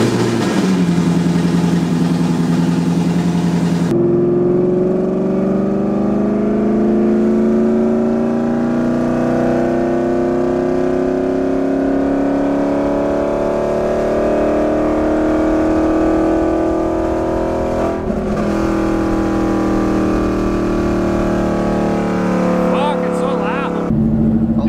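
A supercharged Whipple Mustang engine runs loud and close in an enclosed space, rising in a long sustained rev as the pitch climbs, then dropping back near the end.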